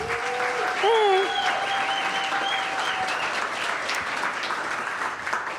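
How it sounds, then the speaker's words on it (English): A crowd at a startup demo day gives a warm round of applause, dense and steady throughout, while a tonal whistle or feedback-like sweep rings briefly near the start and a voice may sit faintly underneath. "I'd love to give Ashley a big round of applause back there."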